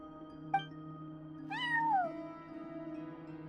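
A cat meows once in Genshin Impact, a clear drawn-out meow that rises and falls in the middle, after a small click, over a steady humming tonal background.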